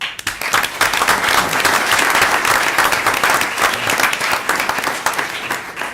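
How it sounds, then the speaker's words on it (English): Steady audience applause fills a board of commissioners meeting room, dense and sustained clapping from many people, loud and close throughout. "you deserve a round of applause"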